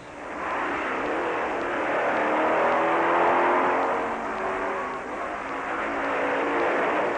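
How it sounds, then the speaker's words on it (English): A Triumph racing motorcycle at the 1957 Catalina Grand Prix roars past, its engine noise swelling and fading as a sustained, fairly loud rush with no speech. "There goes Eakins on his Triumph 3050."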